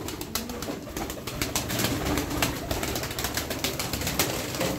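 Pigeons in a loft or coop give soft coos amid repeated sharp wing flaps and rustling, steady and fairly close, with no talking.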